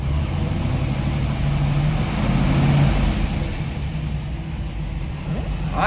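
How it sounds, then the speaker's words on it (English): A 1970 Chevrolet Camaro Z/28 with a solid-lifter V8 idles and revs nearby, a steady loud rumbling engine note swelling briefly in the middle of the stretch, with no talk over it. "It sounds fabulous. Tell up here, it sounds like a solid lifter car"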